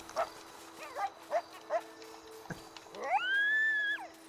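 Zombie dogs in a Halloween video game give a series of short yelping barks, then a longer drawn-out howl-like growl, heard fairly close with game ambience behind.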